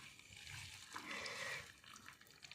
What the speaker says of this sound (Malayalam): ആവശ്യത്തിന് ഈ ചെറിയൊരു ചൂടുവെള്ളം ഒഴിച്ചു കൊടുക്കുന്നുണ്ട്